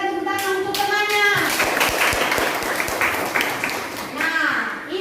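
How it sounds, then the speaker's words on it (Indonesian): Students in a classroom clap their hands for a classmate, a short burst of scattered, fairly close claps between stretches of a teacher's speech. "berikan tepuk tangan untuk temannya."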